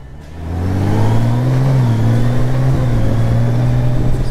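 A Honda Goldwing motorcycle engine pulls hard and steadily while accelerating, its mid-pitched drone rising with quick, smooth gear changes marked by small dips in pitch. The sound is loud and close, with no talking.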